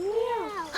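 A human voice imitates a cat, giving one drawn-out, rising-then-falling meow up close, clear and alone.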